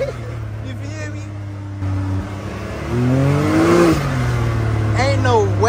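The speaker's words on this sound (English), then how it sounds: "this bitch got a turbo in this bitch" A turbocharged car engine revs and accelerates at a street takeover, rising to a loud close roar about midway, while people talk over it.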